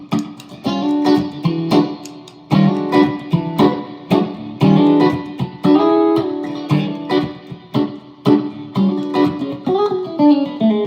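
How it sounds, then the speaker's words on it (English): An electric guitar runs through a Nobles ODR-1 overdrive pedal with slapback delay and reverb from an HX Stomp XL, playing a lively passage of picked notes and chords, mildly driven and alone without talk. "what I've got on right now is the Nobles ODR1, and then just some slapback and a little more reverb from the HX Stomp XL."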